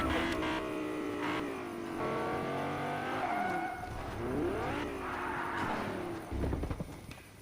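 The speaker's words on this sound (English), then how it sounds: "I hear a car coming" In a video game, a car approaches with a rising, shifting engine whine, tire squeals and skidding, and clattering hoof-like knocks, fairly close and growing busier toward the end.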